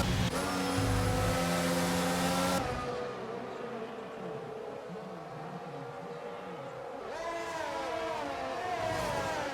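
Race cars in a Formula 1 video game at the Japanese Grand Prix, engines whining and revving through Spoon corner in wet conditions, high buzzing tones rising and falling, with a louder burst at the start and end.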